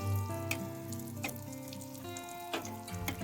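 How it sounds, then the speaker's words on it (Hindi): Aloo tikki frying in oil on a pan, with a soft steady sizzle and occasional crackles under a faint tonal hum. "इस तरह से ऑयल भी ऊपर से डालते जाएंगे और इनको फ्राई करते जाएंगे।"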